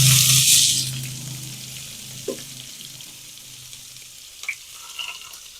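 A burst of loud sizzling as finely chopped onion hits hot oil with mustard seeds and urad dal, settling into a quieter steady fry with a few small clinks and pops.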